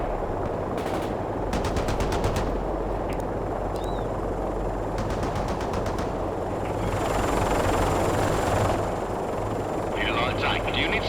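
Gunfire in the real-time strategy game World in Conflict, rapid machine-gun bursts rattling in several rows over a steady engine and helicopter drone, with a radio-style voice talking in places.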